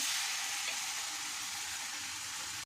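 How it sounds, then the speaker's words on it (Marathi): Flour and malai (cream) being sautéed in a pan for modak filling, producing a dense, even hiss of frying that holds steady at close range and then cuts off. "तर आपण याला असं परतून घेऊया"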